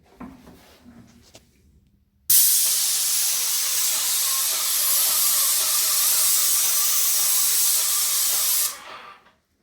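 A loud, steady hiss of a Graco 595 airless paint sprayer starts abruptly after a quiet moment, holds evenly for about six seconds, then cuts off.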